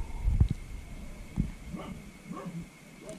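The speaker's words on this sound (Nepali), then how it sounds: "कुकुर बोकिरहेको एम्बियन्स एम्बियन्स सुन्नुहोस् न" A dog barks a few times in the quiet night of a village, the short barks and whimpering yips fairly distant against a calm, faint background.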